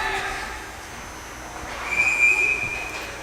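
Referee's whistle at a 16U youth ice hockey game, a single sustained high-pitched blast rising out of arena crowd noise late in the period.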